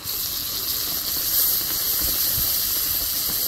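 Spice paste hits fried onions in a pan for a bhetki fish-bone chachchari, giving a steady, close, loud sizzling hiss that holds evenly throughout with no talking.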